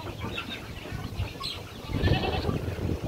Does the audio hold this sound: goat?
yes